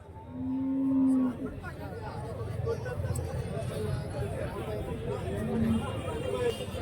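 Cattle lowing at a busy livestock market in Santhipuram, Andhra Pradesh, a loud moo early on and another later, over a steady background of crowd chatter and voices.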